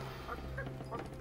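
A chicken clucks briefly in American McGee's Alice, a few short soft fowl calls over a low steady background hum.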